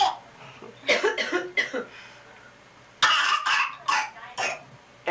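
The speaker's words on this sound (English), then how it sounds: "Every time somebody coughs," A few short, harsh coughs in two bursts, with a pause between, close by and fairly loud over a quiet background hum.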